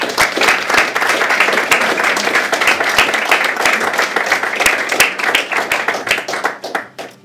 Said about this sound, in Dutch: hartelijk applaus voor Lucia de Berg.